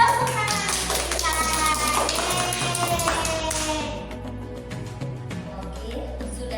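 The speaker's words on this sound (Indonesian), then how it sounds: "Tepuk tangan untuk kita." Children clapping their hands in a classroom activity, a quick burst of rhythmic claps mixed with young voices that thins out after a few seconds.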